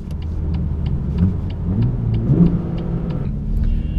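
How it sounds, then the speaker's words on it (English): A BMW M2 engine blips its revs while downshifting, a rumbling mid-pitched note rising and falling with a steady rhythmic ticking over it, heard close and alone. "The next thing that I really love about the BMW M2 is actually the auto rev match on downshifts."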